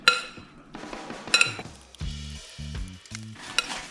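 Raw snapper ceviche mixed with pink salt in a bowl: a few sharp utensil clinks and wet scraping bursts up close, with quieter low tones in the gaps.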